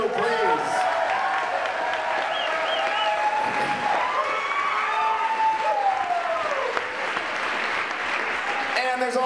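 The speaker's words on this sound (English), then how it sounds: "Let's give them a round of applause too, please." An audience at a poetry slam finals event breaks into sustained, loud applause that fills the room throughout, with a few cheers and voices rising over the clapping.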